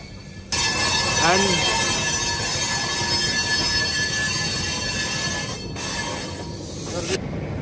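An Andhra Pradesh Express train slowing on the approach to New Delhi, its wheels giving a rising squeal over a steady loud rumble of rolling stock, with a voice speaking briefly nearby.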